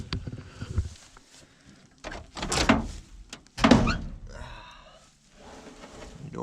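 A dented, slightly out-of-alignment car door on an old project car shuts with a couple of dull thunks amid faint rustling and handling noise, fairly close and moderately loud.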